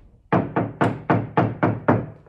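Seven evenly spaced hollow knocks on a thin, tinny VW T5 van door panel, each a close, sharp rap with a brief resonant ring.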